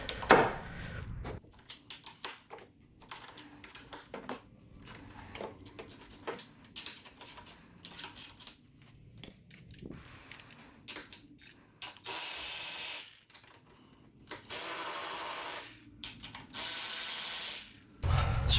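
A ratchet with a 14 mm deep well socket works a strut on a Kia Optima with a 2.0L four-cylinder, giving close, repeated bursts of rapid clicking separated by short pauses, with some clunks and no talking.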